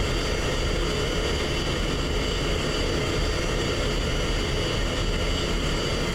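F-16 jet taxiing in a flight simulator game, a steady loud roaring engine hum with a broad constant whine, unchanging throughout and without talk.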